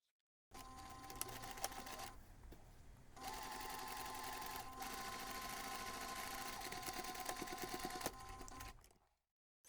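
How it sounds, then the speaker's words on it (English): A sewing machine stitches a pen pocket line through bag fabric, running in a close, steady whirring buzz with a brief pause partway, then continuing before stopping abruptly. "take this to the machine and simply sew the second line"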